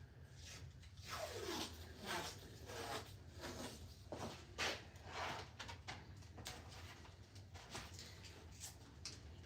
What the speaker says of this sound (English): I'm only taping this last one up before we're done in this room here